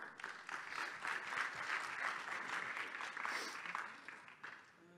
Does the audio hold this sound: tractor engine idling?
no